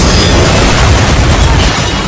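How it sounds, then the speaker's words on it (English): A massive explosion in Metal Gear Solid 5: The Phantom Pain, a loud, sustained broadband roar with deep low rumble filling the whole moment without any talking. "epic explosion!"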